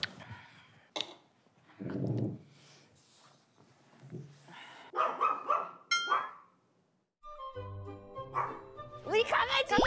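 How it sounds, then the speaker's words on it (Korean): A small pet dog barks and snorts indoors in short separate bursts between stretches of quiet, close and fairly loud, with people chatting and exclaiming around it. "우리 강아지! 강아지 너무 귀여워"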